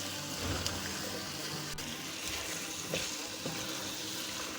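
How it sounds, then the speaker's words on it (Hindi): Bottle gourd and potato curry frying in spice masala makes a soft, continuous sizzle and hiss, with a few quiet stirring clicks scattered through it. "सब्ज़ी को मसाले में अच्छी तरह से भूनेंगे।"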